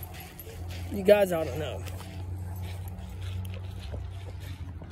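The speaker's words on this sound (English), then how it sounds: "I'm out walking a dog." A dog out on a walk gives a brief, high whimper or whine, close by, as someone talks over steady low outdoor rumble.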